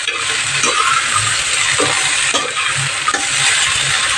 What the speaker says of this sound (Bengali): ওই তার ভিতরে একটু তেল ঢেলে এটা দিয়ে দিলাম